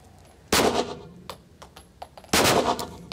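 Two sharp, loud gunshots at a shooting range roughly two seconds apart, with small clicks and metallic pings between them.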